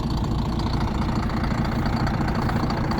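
A 12.5-litre straight-six turbo diesel engine runs with a loud, steady, close-up rumble and a continuous low knocking throb, with no voices.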